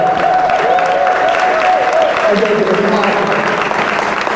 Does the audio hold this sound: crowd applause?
yes